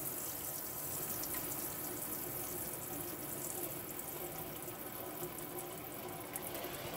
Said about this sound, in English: that is warm water coming out the taps